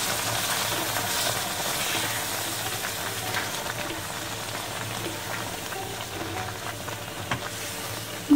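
A semolina, khoa and cooked milk mixture for almond burfi is stirred in a kadhai over low gas, giving a faint, steady, soft bubbling and scraping hiss throughout.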